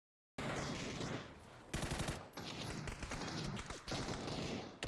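Automatic gunfire in the video game PUBG, rapid bursts of close, loud shots in several volleys, with brief gaps between bursts.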